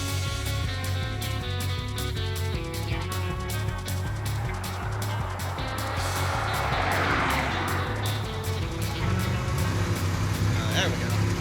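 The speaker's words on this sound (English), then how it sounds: "Now it's running bad. Yeah. Now it's misfiring." Car engine running rough and misfiring at a dragstrip, a loud steady uneven rumble with choppy low-end pulses throughout, under a voice speaking.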